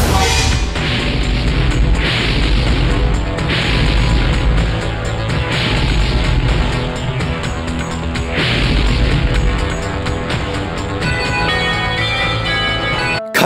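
Loud rocket-launcher blast from an action scene in a Bollywood film, a dense crashing boom with heavy rumbling debris and dramatic music swelling throughout, sustained and loud across the whole stretch.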